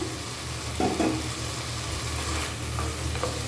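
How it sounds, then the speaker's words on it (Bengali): Cut potatoes tossed into a pan of fried prawns, giving a steady sizzle with a brief stir and clatter, close and alone with no talking. "চিংড়ি মাছটা আমার কষানো হয়ে গেছে আমি এখন এখানে দুইটা আলু কেটে রেখেছিলাম সেটা দিয়ে দিলাম"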